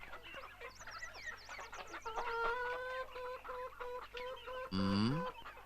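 Hens clucking in a coop, several birds overlapping in repeated close, fairly loud calls, ending with a brief louder burst.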